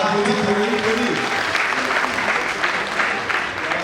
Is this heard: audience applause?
yes